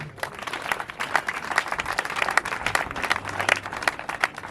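A crowd at a funeral service applauds with steady, moderately loud clapping that continues without pause.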